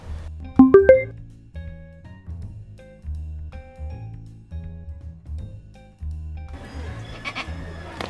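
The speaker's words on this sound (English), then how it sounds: "It's a goat." A goat bleats in a short series of rising, wavering cries near the start, followed by softer tonal sounds and a brief rustle.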